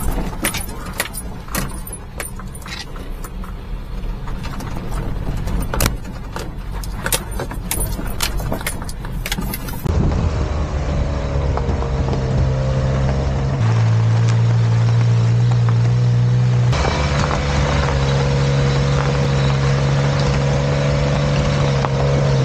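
Mini truck driving on ice in four-wheel drive, a steady engine drone with shifting low tones and clattering, rattling noise in the first half, then a smoother, louder motor hum with no talk.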